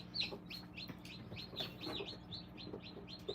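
Newly hatched chicks, one hatched days ahead of the rest, peep in a steady run of high, rapid calls close by. Soft handling noise sits underneath, with no talk.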